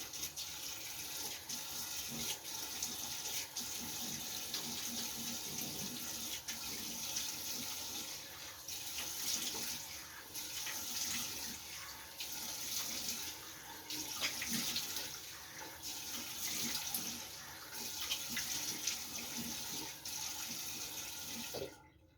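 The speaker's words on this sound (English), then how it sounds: "But I just sometimes in the morning I do a really quick wash." Tap water runs steadily into a sink during a quick morning face wash, a continuous close hiss of flowing water with small splashes from hands and no talk.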